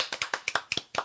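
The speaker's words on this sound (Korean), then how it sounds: "박수 부탁드립니다" Several separate, sharp hand claps in an uneven sequence from a small audience in a Korean local broadcast studio show, close and moderately loud, with no talking.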